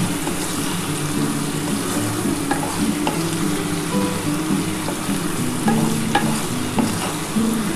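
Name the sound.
potatoes frying with onion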